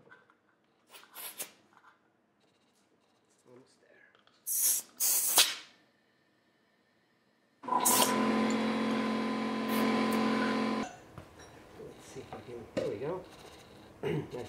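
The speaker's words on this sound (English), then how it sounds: "I'm gonna inflate the tire" Air hisses steadily for about three seconds while a Honda Ruckus scooter tire is inflated, loud and close, with short bursts of spray and quiet handling noises around it and no speech.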